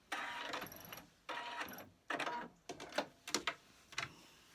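A Singer 8500Q sewing machine stitches in short mechanical bursts, a longer steady run followed by several quicker stop-start spurts, close up and fairly quiet.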